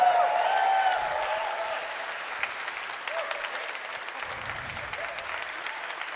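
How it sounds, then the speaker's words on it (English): Conference audience applause at a gaming project update at AxieCon 2022, a moderate, steady wash of clapping with a faint tonal sound at the start, fading slightly after the first second and holding at an even level. "feel free to clap."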